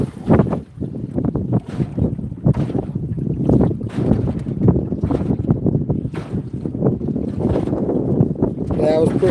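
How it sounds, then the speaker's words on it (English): Gusty wind buffets the microphone outdoors on a fishing boat, a heavy low rumble that swells and drops unevenly throughout, with people talking intermittently underneath. "This wind done got in my head."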